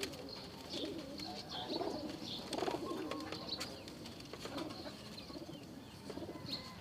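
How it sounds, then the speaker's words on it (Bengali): Pigeons coo in soft, repeated low calls amid a busy outdoor ambience with occasional chirps, steady and moderately near throughout. "সব কবুতর পশ হয়ে আছে না?"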